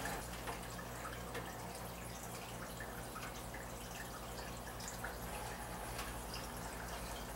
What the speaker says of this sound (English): You can hear a little trickling noise.